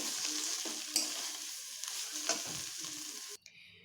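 Wax gourd and mourola fish being stir-fried in a pan, with a continuous soft sizzle broken by spatula scrapes and stirring clatters before stopping abruptly near the end.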